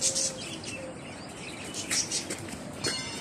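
Birds at Long Beach chirping and calling in short bursts over steady outdoor noise, with a few brief flaps and wingbeats mixed among the tweets.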